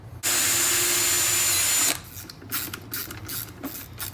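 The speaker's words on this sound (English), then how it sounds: "So now I can take my drill, I can drill one more hole" A power drill whirs loudly and steadily for under two seconds while drilling a screw hole during a Garmin Echomap fishfinder install on a boat, then stops, leaving quieter handling clatter and faint shuffling noises.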